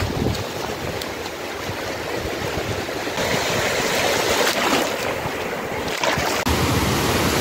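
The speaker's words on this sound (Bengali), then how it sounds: "জলের আওয়াজে আমাদের কথা তো মনে হয় শোনা যাচ্ছে না, পায়ে এসে জল ধাক্কা দিচ্ছে।" Sea waves rolling onto the beach at Digha, a loud, continuous roar of surf and churning water close by, swelling slightly partway through, with no voices.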